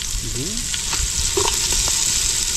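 Onion and chili sizzle in a hot pan with garlic and ginger, a loud close frying hiss with a few stirring scrapes, while a faint voice briefly sounds over it.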